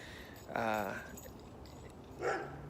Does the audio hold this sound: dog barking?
yes